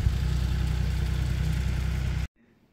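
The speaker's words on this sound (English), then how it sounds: "There's an even bigger mower." A large lawn mower engine runs steadily and loud with a low, rumbling idle, then cuts off abruptly, leaving near silence.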